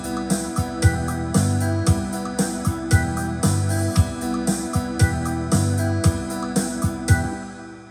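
Yamaha PSR-SX920 arranger keyboard playing back a recorded style on variation A, a full two-bar groove with a punchy drum beat, bass and layered chord parts looping steadily at a moderate level with no talking.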